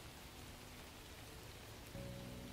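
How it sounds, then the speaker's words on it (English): Heavy rain pouring down as an ambient sound effect, a dense, even wash of rainfall noise at a quiet, constant level, with a slight lift in fullness near the end. "The rain is still pouring down everywhere around the two of you"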